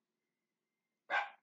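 A single dog bark bursts out near the end, loud and close after a long stretch of near silence, trailing off briefly.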